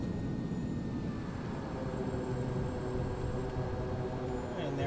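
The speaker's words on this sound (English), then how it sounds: "there's a little bit of your reverse thrust" Single-engine Kodiak turboprop in Microsoft Flight Simulator rolling out after landing with reverse thrust applied, a steady loud broadband engine roar with low rumble, continuous and close throughout.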